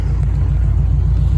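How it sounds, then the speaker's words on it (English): A Chevy V8 swapped into a Range Rover Classic and fitted with a sporty, fairly loud exhaust. It gives a deep, steady, close rumble throughout the short stretch, with no voices. "It's a sporty exhaust."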